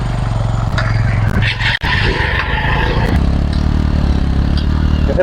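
A motorcycle engine labours through deep sand on a rural riverbank char, droning loud and close with a rough, strained tone and brief revving, while people talk over it.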